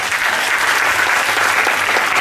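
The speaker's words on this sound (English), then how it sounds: "let's give them another big round of applause" An audience claps for a children's class play, a short burst of steady, loud applause filling the room without pause.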